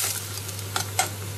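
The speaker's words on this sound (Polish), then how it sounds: "Dokładnie mieszam" Spinach and softened onion stirred in a frying pan over low heat, a soft continuous sizzle with a steady hum underneath and two sharp utensil taps near the end.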